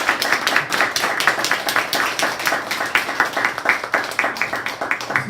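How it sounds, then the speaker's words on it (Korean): A church congregation at a Sunday service claps in encouragement, a steady rhythmic round of hand claps that carries evenly throughout. "우리 큰 격려의 박수 한번 드리겠습니다"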